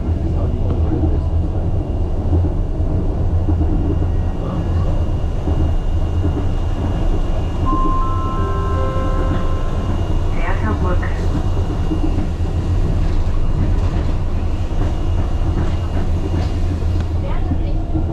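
Steady rumble of a ride aboard the Wuppertal Schwebebahn suspension railway in Germany, a continuous loud low drone with a brief high whine in the middle, heard from inside the car.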